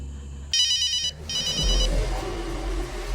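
A phone rings in a scene from the movie Cry Wolf: two bursts of a bright electronic ringtone, close and fairly loud, over a low background hum with faint rumbling underneath.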